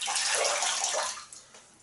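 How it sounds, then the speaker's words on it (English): Water runs from a tap while shaving lather is rinsed off a face, a steady splashing rush that fades and thins toward the end with a few small splashes. "I'm just going to wash it off"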